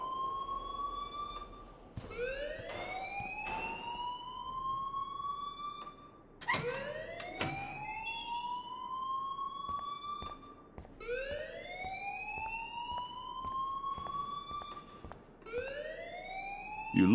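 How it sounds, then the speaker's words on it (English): A school alarm in the video game Life is Strange wails in repeated rising electronic sweeps, about four long cycles, loud and continuous with no one speaking over it. "please turn off that alarm since that's your job"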